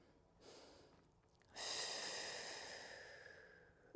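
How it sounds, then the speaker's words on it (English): A slow, deep breath in and out during a standing hip flexor stretch, the inhale soft and rising, then a louder, long airy exhale that fades gradually, close and alone without talk. "One more nice deep breath in and out."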